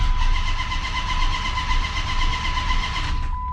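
A Procharged 426 Hemi engine cranks on the starter, a steady rhythmic whirring churn with a high whine on top, loud and close, cutting off near the end.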